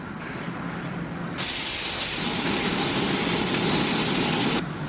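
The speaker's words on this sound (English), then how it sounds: "He's bleeding off his steam." Steam locomotive standing still and blowing off steam through its safety valve, a loud steady broadband hiss that swells partway through and then eases slightly near the end, with no voices.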